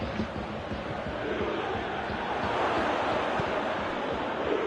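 Football crowd in a FIFA video game Juventus match, a steady broad roar of many voices like rushing surf, holding loud and even throughout with no clear peaks.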